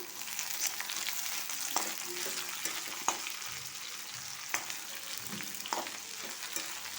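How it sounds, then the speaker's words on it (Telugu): Tomato curry fries in a pan with a constant close sizzle and crackle, punctuated by occasional sharp spatters and faint stirring scrapes, with no voices. "కూర కూడా వేగిపోయి వచ్చింది."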